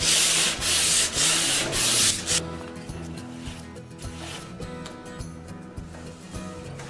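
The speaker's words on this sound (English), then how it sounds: "Sanding is always with the grain." A few loud, rhythmic sanding strokes on wood up close, then the rubbing stops, leaving quieter clatter and faint handling noises.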